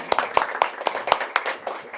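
A small audience at a literary reading claps in a brief round of applause, its evenly spaced claps sharp and close.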